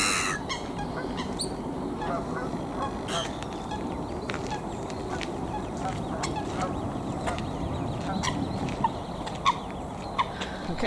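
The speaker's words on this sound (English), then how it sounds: "there's a load of Canada geese on the lake" Canada geese on an open lake honk repeatedly amid a dense, steady outdoor wash of bird calls and background noise, with short sharp calls rising above it near the end.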